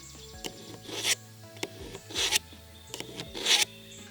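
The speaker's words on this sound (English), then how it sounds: "So I'm gonna run this knife through this kitchen sharpener." A cheap kitchen knife drawn through a kitchen sharpener gives three close raspy grinding strokes in a steady rhythm, each rising to a scratchy hiss, with light clicks in between.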